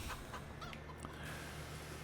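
Chickens cluck softly in the farming video game Farming Simulator 25, with a few faint, scattered clucks over a low, steady background hum.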